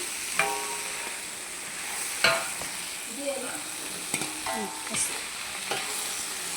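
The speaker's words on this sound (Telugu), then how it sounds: "క్యాబేజీ ఫ్రై చక్కగా వేగిపోయింది కదండి." Cabbage frying in a pan, a soft steady sizzle broken by several sharp utensil clinks and stirring scrapes, close and moderately quiet with no talk.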